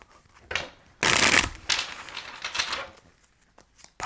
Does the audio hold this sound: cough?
no